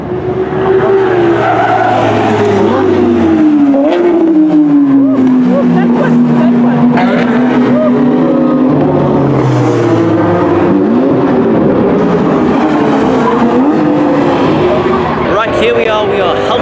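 Ford Mustang cars race around a track at the SA Festival of Motoring, engines roaring loudly and rising and falling in pitch as they pass close by, with tyre squeal under steady nearby talk.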